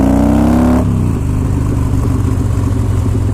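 A motorcycle engine rumbles loudly while riding, revving high at first and then dropping into a deep, steady drone, close and continuous.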